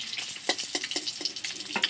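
Eggs fry in hot oil in a home kitchen, a steady crackling sizzle broken by sharp pops and spatters, close and moderately quiet.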